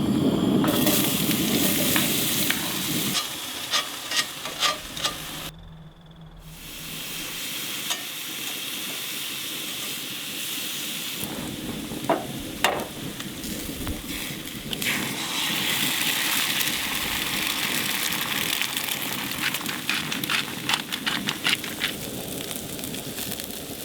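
Bacon, hash browns, eggs and onions with a little cheese fry on an outdoor griddle at a winter truck camp, a steady crackling sizzle broken by scrapes and clatters and a short quiet gap.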